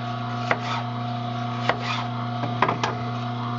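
Several sharp knife taps on a cutting board as tomatoes are chopped, spaced irregularly, over a steady electrical hum.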